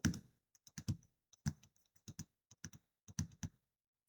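Quiet, close typing on a computer keyboard, with irregular bursts of crisp key clicks and short gaps between them, and no voices.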